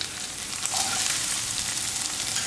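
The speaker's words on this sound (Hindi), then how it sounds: "इसे हम थोड़ा सा सॉटे करेंगे" Cubed yellow and red bell peppers and capsicum with finely chopped green chillies sautéing in a pan: a steady, close, bright sizzle and crackle of frying, swelling slightly as the pieces are stirred, with no talking.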